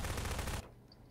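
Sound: gunfire in the video game Prop Hunt

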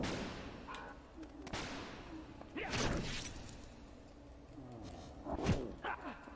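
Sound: dog barking in video game Vagrant Story

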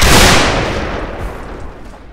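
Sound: musket volley fire in Mount and Blade Warband video game

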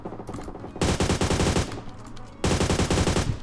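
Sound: gunfire from the video game PUBG Mobile

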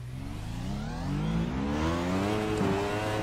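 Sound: McLaren MP4-30 F1 car engine in video game iRacing

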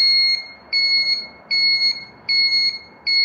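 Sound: buzzer of a DIY vehicle turn signal setup

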